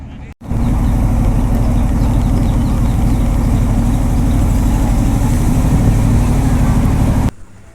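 Trawler engines at a village river ghat where boats gather for crossings, a loud, continuous low diesel chug running steadily before cutting off near the end.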